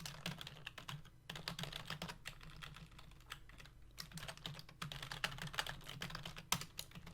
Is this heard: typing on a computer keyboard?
yes